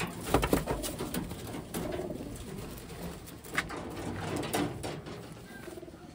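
Taiwan pigeons, including a checkered hen and a pearl-eyed bird, give soft, low cooing calls that repeat close by. Light rustling and small knocks from the loft come through between the coos, and no voices are present.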